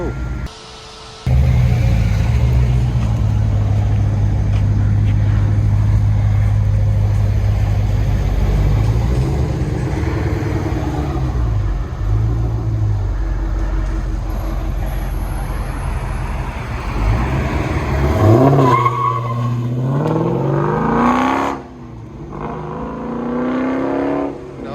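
A 2015 Dodge Challenger Scat Pack with a 6.4L V8 and JONES JFP exhaust rumbles loud and close. Its deep burble swells into hard revs before cutting off near the end.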